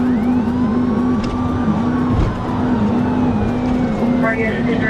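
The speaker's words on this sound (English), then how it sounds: "The Murano tore down GA-204 toward the busy I-95 corridor" A Nissan Murano speeds through traffic during a police chase on a highway toward the interstate, its engine droning loud and steady while a siren wails and sweeps throughout.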